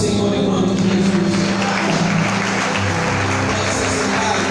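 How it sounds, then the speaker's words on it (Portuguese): A church congregation claps together at a year-end service, dense sustained applause filling the room at full volume, with voices mixed in underneath. "aplauda o Senhor em nome de Jesus"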